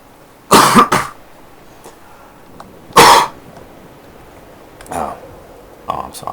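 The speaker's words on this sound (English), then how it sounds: "Oh, hold on, I'm gonna cough." A person coughs in loud, sharp bursts, two strong coughs followed by two weaker ones, with quiet room noise between them and no talking.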